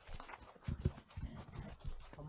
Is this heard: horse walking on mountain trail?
yes